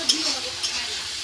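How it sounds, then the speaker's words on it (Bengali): Oil frying in a pan for a Bengali fish curry, with fish oil heating up. A steady close hiss and sizzle fills the scene, with a couple of brief louder pops near the start and middle. "এখন ভাজবো মাছের তেল"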